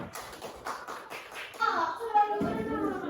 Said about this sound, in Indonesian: Hasil dari kelompok 2 silakan diberi tepuk tangan